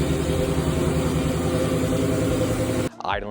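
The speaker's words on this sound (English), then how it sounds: "Idling sounds more aggressive, but still tamed and quiet." A lowered Ford F150 with a cat-delete exhaust idles in a steady, deep, throaty rumble, close and loud, cutting off abruptly near the end as a voice begins.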